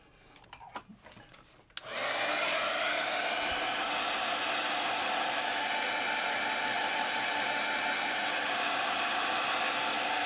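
A hair dryer blows steadily on mixed media paste, switching on after about two seconds of faint handling sounds and then running loud and constant to the end with no talk.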